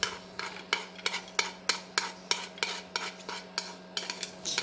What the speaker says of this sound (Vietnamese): Đợi chảo nó nóng lên thì mình cho tỏi băm vào.